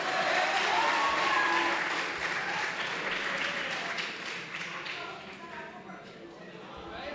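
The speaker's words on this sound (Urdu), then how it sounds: "اب تو تالی بجا دیجئے کم سے کم" An audience claps at a poetry recital during an international mushaira in Pune, a sustained round of applause with murmured voices beneath, gradually fading in strength over several seconds.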